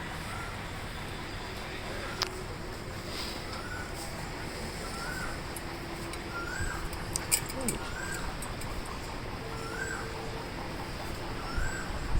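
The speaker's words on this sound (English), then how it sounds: "Beautiful island birds." Several birds call repeatedly, harsh caws and short cries spaced out over a soft, steady outdoor background.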